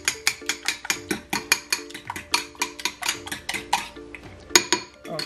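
A fork whisks eggs briskly in a bowl, producing a rapid, even series of metallic clinks and taps, about four per second, close and alone.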